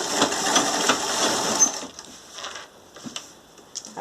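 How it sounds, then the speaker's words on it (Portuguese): A sewing machine whirs briefly through a fabric door draft stopper seam, then stops and gives a few short backstitch bursts with light clicks, close and fairly loud. "Aí você dá retrocesso novamente para sua costura"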